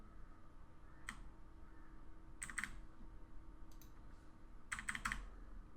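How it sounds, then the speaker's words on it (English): Keys tapped on a computer keyboard during After Effects editing, a few quiet, sparse clicks and short double taps spread irregularly across a near-silent room with no talking. "Let's place it in the position using the arrow keys."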